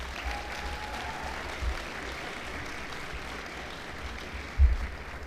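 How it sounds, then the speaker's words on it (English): A graduation ceremony audience of friends, family and staff gives the graduating class a steady, moderately distant round of applause, sustained evenly with a couple of louder thumps. "So please give them a round of applause"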